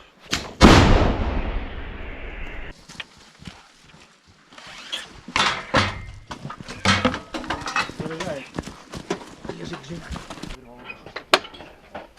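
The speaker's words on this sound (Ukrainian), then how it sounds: "Гармата." One loud, close blast of an M114 howitzer opens, followed by a long fading rumble, then scattered clatter and people talking.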